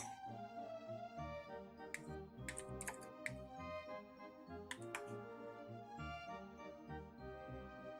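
Typing on a computer keyboard with a few sharp clicks standing out over steady game music, the keystrokes brief and scattered rather than continuous.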